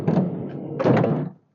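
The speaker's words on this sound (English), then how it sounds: "I'm just going to open the door" The door of a Nomado Cruiser camper is opened, giving a couple of close, solid clunks and a rattling thud that ends abruptly in silence.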